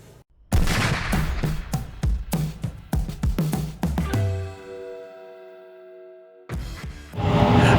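A Taurus GX2 handgun fires a rapid string of about ten loud, sharp shots in close succession, then a ringing pause of near silence before a loud burst of noise returns at the end.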